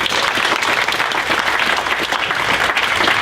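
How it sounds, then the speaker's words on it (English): A dense round of applause from an audience at a town hall event, loud and continuous for a few seconds with no pauses. "Let's give her a round of applause."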